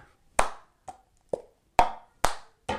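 Six sharp hand claps in a steady, slightly uneven rhythm, each a crisp close smack with a quick decay, performed as a children's rhythm exercise for fifth and sixth graders.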